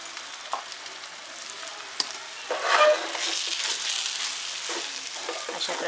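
Cooked rice being stirred into fish biryani in a pan, with fried onion: steady scraping and stirring with a soft sizzle underneath, close by and continuous, a louder scrape midway, no talk.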